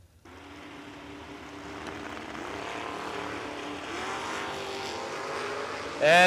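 Drag racing cars, including a Chevrolet Camaro, roar steadily down the track, a continuous engine drone that builds gradually in intensity before jumping sharply louder and higher at the very end.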